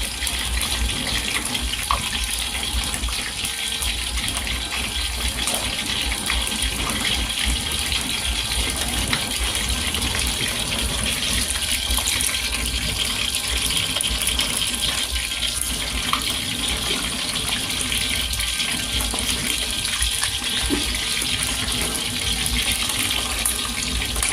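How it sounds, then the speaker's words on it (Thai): Mackerel fried slowly in oil over low heat gives a loud, steady, even hiss with soft crackles throughout, continuous and close, with no speech. "เราจะทอดไฟน่อนนะ ไม่ทอดไฟแรงให้มันค่อยๆสุกนะคะ"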